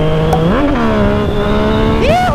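A Yamaha MT-09 motorcycle engine runs loud and close, with a strong harmonic drone that climbs in pitch in two quick revs, one early and one near the end.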